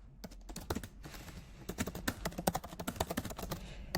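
Rapid, uneven keystrokes clatter on a computer keyboard, a close, quiet stream of clicks with short pauses, no voices.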